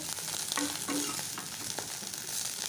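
Bitter gourd (kakarakaya) slices sizzle steadily in hot oil in a pan, with soft scraping and stirring knocks breaking through the continuous frying hiss, no voices.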